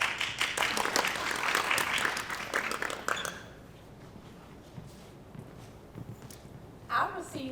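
A classroom audience breaks into a burst of dense clapping for about three seconds, then it cuts off into quiet room tone, with a short voice-like sound near the end.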